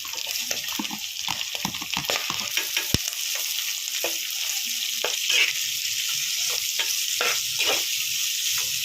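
Chopped onions, green chillies and ginger frying in a pan: loud, continuous hissing sizzle, with stirring clatter early on, close, no talk.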